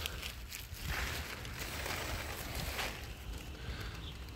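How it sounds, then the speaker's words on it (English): A Gemmy airblown inflatable 4 ft Christmas reindeer inflates as its fan blower runs, making a constant close rushing whoosh of air that holds steady from start to finish. "plug this in and watch it blow up"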